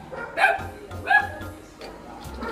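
Dogs barking in a narrow village alley, with two sharp, fairly close bark bursts in quick succession and a fainter yelp after them.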